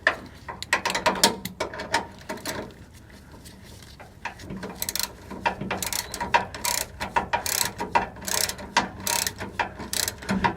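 A hand ratchet tightens the bolt on a rear shock absorber of a GM OBS truck, clicking in close, rapid bursts of pawl ticks with short pauses between strokes.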